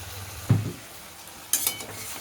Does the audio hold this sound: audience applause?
no